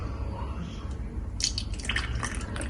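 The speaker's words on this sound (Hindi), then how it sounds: "और इसमें हम डालेंगे थोड़ा सा दूध।" A little milk is poured into coffee mixed with condensed milk, making faint, brief dripping and trickling splashes close by over a low background hum.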